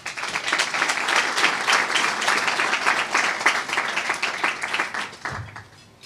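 An audience at an awards ceremony claps in sustained applause, loud and dense for about five seconds before it quickly thins and fades out.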